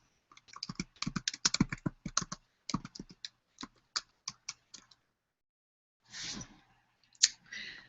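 Typing on a computer keyboard to run a Google search: rapid clusters of close, crisp key clicks, then scattered single taps, a pause, and a few final clicks, with no talk.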